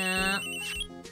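An old-style telephone rings in the Ace Attorney game Phoenix Wright: Ace Attorney, a steady electronic ring with a bright tone that carries on alone and then breaks off near the end.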